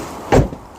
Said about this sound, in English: Excellent door shut sound.